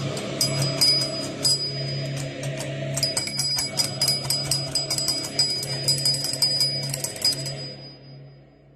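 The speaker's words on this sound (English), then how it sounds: "That night, the bell rung again, and no one was touching it." A bell on a farm rings by itself at night, a rapid run of bright metallic strikes repeating over several seconds, fairly loud and alone, fading slightly toward the end.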